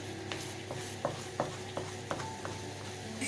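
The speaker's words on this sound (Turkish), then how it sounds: "Biz şu anda bir iki defa daha karıştıralım" A spoon stirs kuymak, cornmeal cooked with butter in a pot on the stove, giving soft regular scraping strokes about every third of a second over a low sizzle, close and alone.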